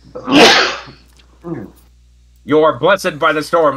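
A single loud, close sneeze bursts out at the start, followed by a short vocal sound and then a person speaking.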